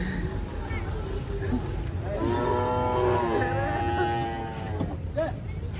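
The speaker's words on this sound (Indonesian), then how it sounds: "Pantau sapi." Cattle being unloaded from a truck give a long, loud moo in the middle of steady background noise, with a shorter call near the end.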